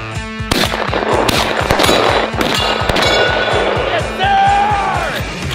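Several guns are fired in rapid, sharp bursts, close and loud, with overlapping shots and brief cries from people nearby.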